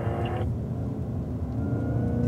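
A Cadillac on a race track pulls hard out of a corner, its engine a steady close rumble and whir that holds and builds slightly as it accelerates.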